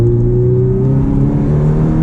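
A Ferrari F430 Spider's engine holds a steady, loud droning note, its pitch shifting slightly during a gear change, heard close from inside the car with no talking.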